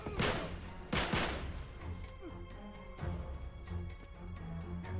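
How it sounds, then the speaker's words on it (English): Gunfire in the video game Uncharted 3: two loud, close blasts open the stretch, followed by further scattered shots and rattling bursts over a continuous rumble of combat. "Come on, shoot him in the face."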